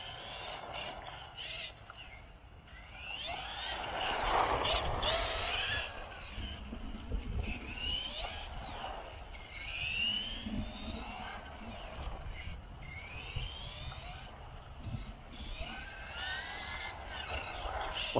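Small Tamiya electric RC car motor whining as it runs laps around a small parking lot, a steady high buzz rising and falling with passes, with some faint talk.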